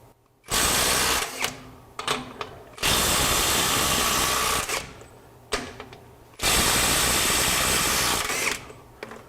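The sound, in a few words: Silvel 21V brushless impact wrench running in reverse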